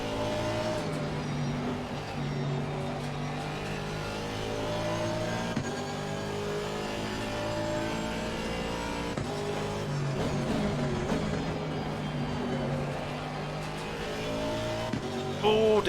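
Race cars, among them a Ferrari, in Assetto Corsa Competizione, engines droning and shifting pitch as they accelerate, steady and loud throughout with faint tire noise, with a voice talking over the top.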